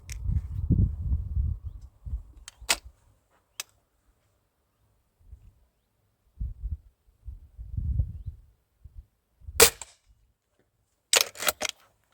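Old pellet rifle fired outdoors, a few short sharp cracks spaced seconds apart among low rustling and handling noise, close and fairly loud.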